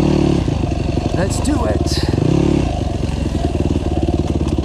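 A GAS GAS EC250F enduro motorcycle runs steadily up close on a dirt trail, its engine note rising and falling briefly, with someone talking over it throughout.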